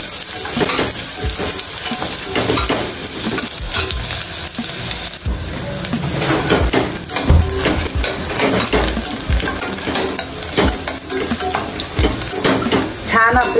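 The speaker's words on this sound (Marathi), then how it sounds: "तेल छान गरम झालेलं आहे। त्याच्यामध्ये मी मोठ्या साईजचा कांदा कट करून घेतलेला आहे बारीक।" Finely chopped large onion frying in three spoons of hot oil for dried bombil khichdi, a dense continuous sizzle with frequent clinks and scrapes of a spoon against the pan, close and loud with no talk.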